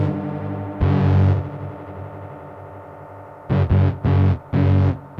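A modified Sony TCM cassette recorder used as a tape echo with pitch control gives a distorted, droning tone, with repeated short bursts that cut in and out and echo in a rough, throbbing rhythm.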